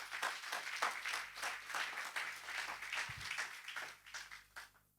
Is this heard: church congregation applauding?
yes